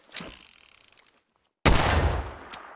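Gunfire in the video game Fallout 76: a rapid burst of shots with ringing tails cuts off into a brief silence, then a loud, sharp blast with a metallic ring and a further shot.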